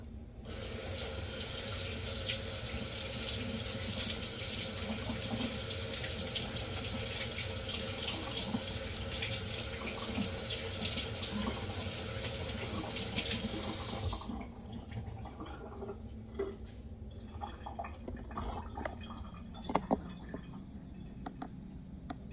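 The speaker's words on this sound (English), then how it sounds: "We'll wash my hands a minute" A kitchen tap runs steadily as hands are washed under the stream for about fourteen seconds, loud and close, then the water shuts off, leaving quiet drips and small handling sounds.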